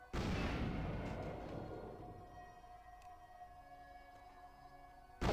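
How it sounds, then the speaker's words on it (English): A grenade goes off in the game Vampire: The Masquerade - Bloodlines, one loud, close blast whose rumble fades slowly over several seconds, and a second burst starts just as it ends. "Bugger's throwing grenades at me"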